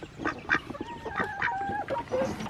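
Ducks quack repeatedly in short, nasal bursts close by, some calls overlapping, in a pen where young ducks have been given a gallon feeder and clean water.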